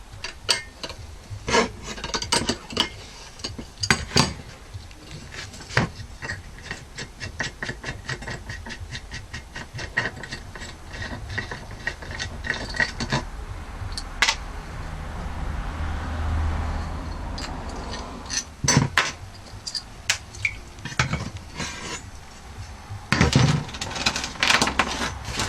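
Oily metal parts of a knife-hardening setup being taken apart by hand: repeated scraping, clanking and rubbing of metal pieces, some sharp knocks, with a quieter stretch of low rumble in the middle.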